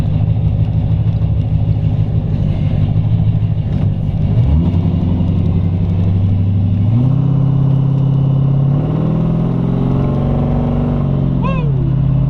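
1940 Ford Coupe street rod with an injected ZZ4 350 V8 accelerating hard, loud rumbling exhaust climbing through several gear changes, each shift dropping then rising again, heard close up from inside the car.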